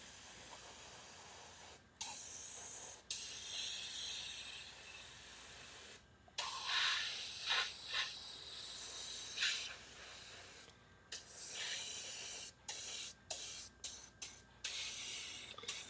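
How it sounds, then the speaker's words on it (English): An airbrush compressor runs with a steady hiss at moderate level, broken by several short pauses. Bursts of spray come and go as the airbrush is worked for model painting, and no one speaks. "the compressor is kind of probably annoying"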